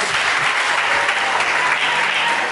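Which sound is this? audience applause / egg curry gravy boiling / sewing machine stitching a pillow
audience applause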